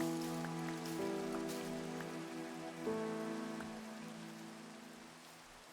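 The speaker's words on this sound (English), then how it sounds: "And it's raining, because of course it would be." Steady rain pattering in a video game, a soft continuous hiss heard alone beneath sustained musical tones, with no talking.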